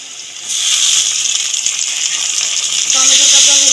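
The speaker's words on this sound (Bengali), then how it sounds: "টমেটোটাকেও ভেজে নেব।" Tomato paste hits a hot pan and fries with a sudden loud sizzle that stays strong and steady, growing slightly brighter toward the end.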